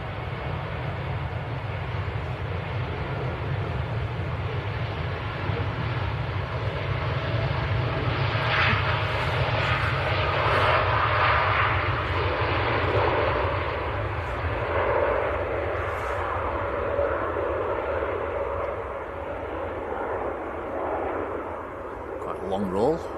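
A Boeing 787-9 airliner rolls down a wet runway at Manchester Airport on takeoff, a steady, broad engine roar that swells slightly midway, with a voice speaking over it.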